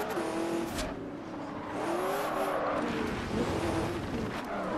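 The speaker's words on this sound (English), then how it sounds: "I think this car's got to be the fastest to accelerate in this game." A Bugatti accelerating in the Forza Horizon 2 racing game: a steady, loud engine drone with rising revs that runs unbroken through the whole stretch, heard alone without talk.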